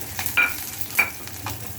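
Onions and ginger sizzling as they stir-fry in a hot pan, with a few scraping stirs and brief bursts of crackling over a steady low hiss.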